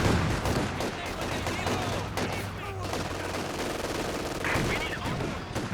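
Dense, continuous gunfire and explosions from Company of Heroes 2, with an MG42 machine gun among the battle sounds, loud and busy throughout, with faint voice beneath.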